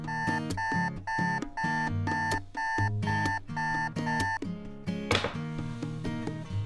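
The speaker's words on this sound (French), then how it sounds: "je mets toujours mon alarme un bon 30 minutes avant l'heure où je veux être officiellement réveillé" A morning alarm clock rings with a repeating electronic melody of bright pulsed beeps in a steady rhythm, close and clear, before a brief rustling thump as the beeping continues.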